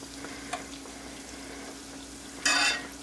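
Oreos deep frying in hot oil, a steady low bubbling under a faint hum, with a sharp burst of loud crackling sizzle near the end.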